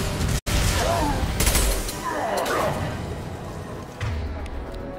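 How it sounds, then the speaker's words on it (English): Gunfire erupts in a Mass Effect 2 firefight, an impact gun cracking amid bursts of shots and booms, loud and busy with battle noise throughout. "Firing an impact gun."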